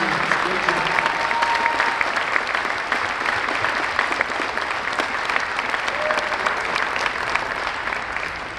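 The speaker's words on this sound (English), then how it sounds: "One round of applause for our top 25 students." A large audience at a high school senior awards night claps steadily for several seconds, a dense and loud wash of applause with no one speaking over it.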